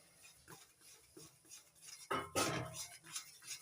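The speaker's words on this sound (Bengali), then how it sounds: "এবার দিয়ে দিচ্ছি ভেজে রাখা ঠান্ডা করে নেওয়া বেসন দিতে থাকবো আর নাড়তে থাকবো" Roasted, cooled gram flour stirred into thickened kheer in a pan for mecha sandesh: quiet scraping and soft clinks of a spoon against the metal, with a louder burst of scraping midway.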